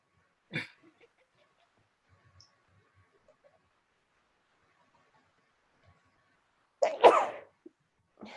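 A single sharp sneeze bursts out near the end of a quiz night among friends, preceded by a brief sniff or click earlier and otherwise near silence.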